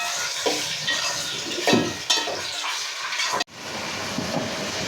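Tomatoes sizzle and sauté in a hot pan, with a spoon stirring and scraping against the metal, close up and continuous.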